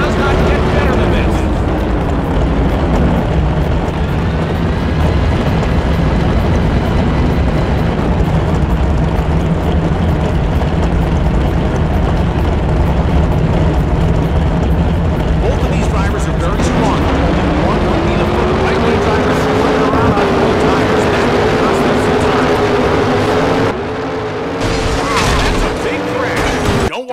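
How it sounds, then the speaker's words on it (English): Drag racing engines from the NHRA: Speed For All racing game roar steadily and loudly throughout, with pitch sweeps as the engines rev, and a voice talking over much of it. "The roar of the engines firing up, the smell of the exhaust"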